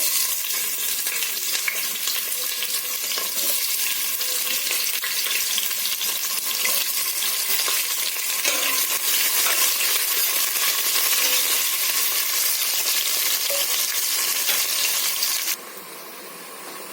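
Chopped onion frying in a pan for a mutton curry, a dense, loud, continuous crackling sizzle that holds steady throughout before dropping noticeably just before the end.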